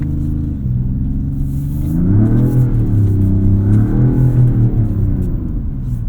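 A 2026 Dodge Charger Scat Pack Plus AWD driving on snow, its engine rumbling steadily close by and rising into a louder rev partway through as throttle is added, with no talk.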